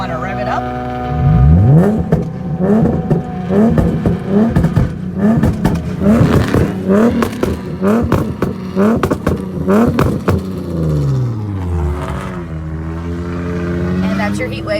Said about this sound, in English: So you're just going to rev it up, and then you're just going to kind of want to pat the gas almost with your foot.